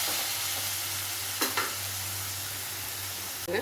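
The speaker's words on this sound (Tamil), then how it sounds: "சிக்கனோட சேர்த்தாங்க நல்லா கலர் செய்கிற வரைக்கும் கொஞ்சம் பரட்டி விட்டுடலாம்" Chicken stir-fried with tomatoes in a pan for a curry leaf chicken gravy, a loud steady sizzle with a couple of brief scraping stirs of the spatula.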